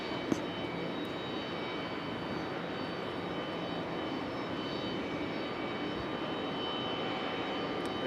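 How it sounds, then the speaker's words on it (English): JetBlue Airbus A220 jet airliner at Raleigh-Durham airport, a faint distant steady jet rumble holding level throughout, heard alone. "Here comes JetBlue in the A220."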